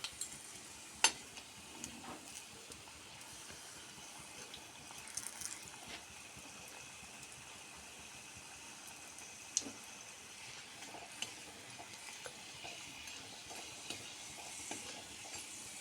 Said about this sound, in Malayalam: ഇനി അതിലേക്ക് നമുക്ക് കായം വറുക്കിടാം.